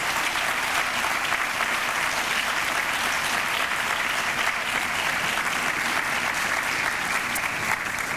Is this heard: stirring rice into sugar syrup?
no